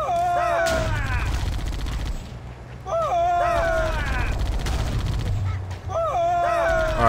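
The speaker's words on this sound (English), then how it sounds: "That one is shooting rockets!" Enemy rocket fire in the Halo campaign, with booming launches and explosions rolling under steady game music and battle noise, repeating about every two to three seconds.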